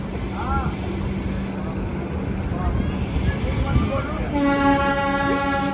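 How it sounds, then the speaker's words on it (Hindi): The Poorabiya Express passenger train departing Gorakhpur Junction, a steady low rumble of rolling carriages with faint whistle-like tones and a sustained horn near the end, heard from inside with faint background voices. "तो अभी हमारी ट्रेन गोरखपुर जंक्शन से डिपार्चर हो रही है।"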